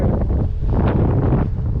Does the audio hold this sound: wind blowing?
yes